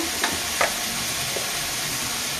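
Peas frying in a pan for motor ghugni give a loud, constant sizzle close up, broken by a few quick scrapes of a stirring spoon, with no talking.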